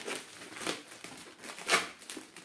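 Packaging from a T-Dagger mechanical gaming keyboard crinkles and rustles as the box is opened, a run of soft, irregular crackles with one sharper crunch partway through and no talking.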